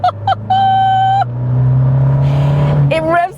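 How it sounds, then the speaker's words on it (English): Abarth 595 Competizione at full throttle in sport mode, its engine rising in pitch as it accelerates, loud and close, with voices talking over the start and end. "we're gonna pop this car into sport mode, which is the scorpion button, and let's floor this thing"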